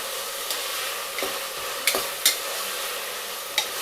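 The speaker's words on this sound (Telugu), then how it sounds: "అన్నీ ఒకసారి కలిపేసుకుందాం బాగా" Vegetable pulao mixture with curry leaves and mint being stirred in a pot, giving a steady soft sizzle broken by a few sharp scraping clicks from the spoon, close and with no voices.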